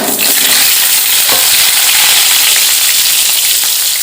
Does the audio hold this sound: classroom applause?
no